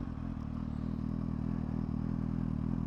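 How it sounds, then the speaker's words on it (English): A 2012 Suzuki GSR750A inline-four motorcycle fitted with a Yoshimura exhaust runs after starting, a steady low, raw idle rumble, close and fairly quiet, with no voices over it. "Let's start her up and give you an impression of how the exhaust sounds."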